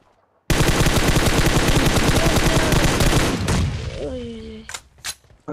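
Sustained automatic gunfire in the mobile battle-royale game PUBG Mobile, a loud unbroken burst of rapid shots lasting about three seconds, then a few separate sharp reports and game effects as the shooting stops.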